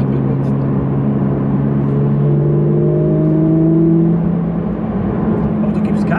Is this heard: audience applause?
no